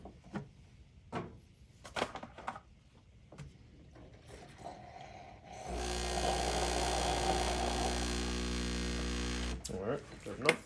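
A home espresso machine runs with a loud, steady pump hum for about four seconds, preceded and followed by scattered clicks and handling sounds.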